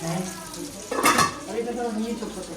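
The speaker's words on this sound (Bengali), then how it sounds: "এটা মাছটা ফ্রাই করছে না হ্যাঁ।" Fish frying in a pan, a steady nearby sizzle with a brief louder burst of spatter and utensil clatter partway through, with faint background voices.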